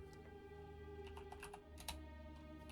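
Quiet typing on a computer keyboard during an online Pokémon battle match, a soft scatter of key clicks over a low steady background hum.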